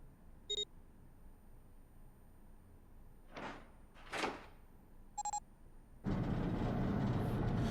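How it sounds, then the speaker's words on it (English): A door opens in the Zero Escape: 999 video game: two short electronic beeps and soft whooshes, then a loud, steady mechanical rush of the door sliding open that runs to the end. "The door opened."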